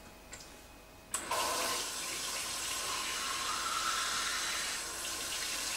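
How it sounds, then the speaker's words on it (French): Tap water pours from a faucet into glasses, starting abruptly after a faint click and running as a steady, moderately loud splashing stream to the end. "je vais remplir de l'eau du robinet"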